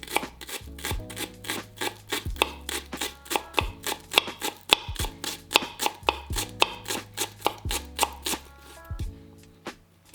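A chef's knife slicing shallots on a cutting board, a steady series of crisp, close chops at a slow even rhythm, with no voices.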